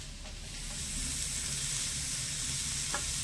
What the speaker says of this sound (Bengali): ভালো করে নেড়েচেড়ে একটু মিশিয়ে নেব। আর বাঁধাকপিটা মেশাতে মেশাতে দেখবেন অনেকটাই কমে আসবে।